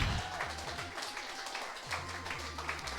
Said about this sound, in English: So one final round of applause for your runner-up, Dan V, and your winner, SV.